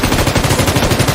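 Loud, rapid automatic gunfire from a video game rattles in a continuous burst of closely spaced shots, close and dominant, with no speech.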